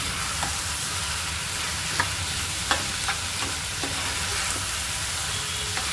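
Prawns hissing in a fried onion and tomato masala for prawn curry, a steady close sizzle with occasional soft scrapes of stirring and no voices.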